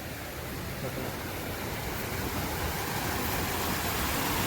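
River water pours down over a small weir in the Konkan countryside, a steady broadband rush of falling water that holds unbroken and fairly loud throughout.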